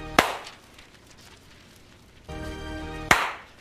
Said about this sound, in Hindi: इसलिए ट्रांजिशन वाली ताली बजा देते हैं।